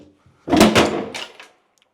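A bathroom cabinet door is pulled open and comes apart, producing a loud close clatter and creak with a few rattling knocks over about a second, then silence.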